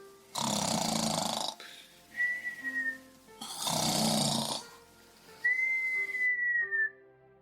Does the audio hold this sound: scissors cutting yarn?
no